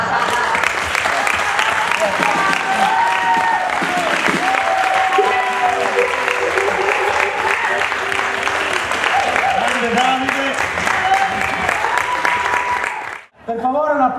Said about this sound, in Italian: Per favore un applauso alla nostra grande presentatrice